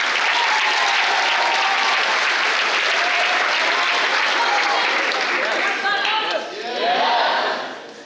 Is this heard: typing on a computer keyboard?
no